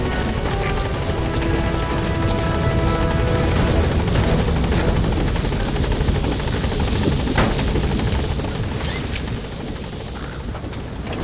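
Helicopter hovering over a landing zone in the Metal Gear Solid V: The Phantom Pain video game, a loud, continuous rotor roar and engine drone filling the whole stretch, steady and close, with no speech.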